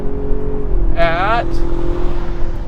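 A 2021 Ford Ranger Tremor 4x4 pulls hard at full throttle, its engine note climbing steadily in pitch close by, while someone briefly talks over the drive.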